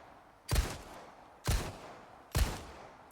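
Three sharp gunshots ring out about a second apart from a firearm emptying its magazine in the Resident Evil 4 remake, each blast loud and punchy with a short decaying tail, no voices.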